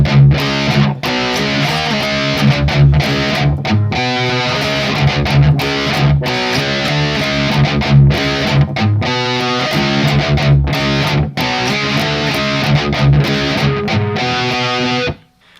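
Heavily distorted electric guitar chugs through the chord riff of a song, with fast palm-muted strums and open-string chords in a driving, continuous pattern, loud and close before stopping abruptly at the end.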